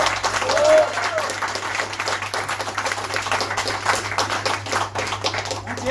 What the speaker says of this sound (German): Ja, herzlichen Applaus auch für Sie.